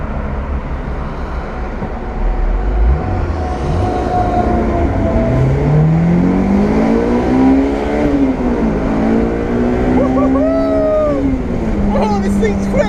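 A 2003 Honda S2000 (AP1) accelerating up a highway on-ramp. The engine note sweeps up through several gears, loud and close from inside the cabin, while a person talks over it.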